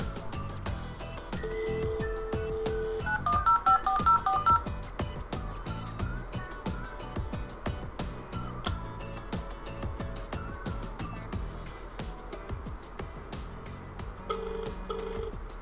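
Custom electronic ringtones play on an iPhone and a Mac over a steady, busy background, with a short melodic trill in the middle and a second tone near the end.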